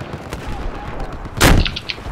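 Gunfire in Battlefield 4 on the Hainan Resort map: a single loud, sharp burst around the middle, trailed by a few smaller crackling shots, over a low background rumble of combat.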